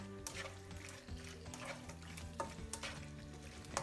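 Pasta being stirred through arrabbiata sauce, with wet squelching and scraping in short irregular bursts over a low steady background hum, close by and fairly quiet, no voices.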